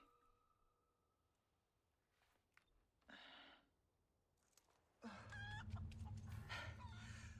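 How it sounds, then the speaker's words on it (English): Chickens in a Resident Evil 4 village cluck in short bursts, faint at first, then louder and closer toward the end, with a rooster crow and low background rumble from the game. "I hear chickens"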